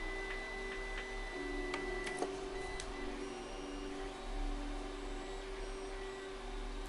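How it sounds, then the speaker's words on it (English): A Creality Ender 3 3D printer runs steadily in a workshop, giving a constant mechanical hum with faint motor whine and occasional small clicks, moderately distant and without talk. "So you can hear my printer going away in the background."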